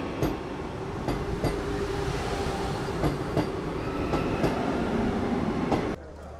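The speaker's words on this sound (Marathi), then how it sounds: "आपण आता क्रॉसिंगला थांबलो आणि समोरच आपल्या Vande Bharat express pass out होते." A Vande Bharat Express train passes a level crossing up close, its steady rumble broken by periodic rhythmic wheel clacks over the rail joints before it cuts off abruptly near the end.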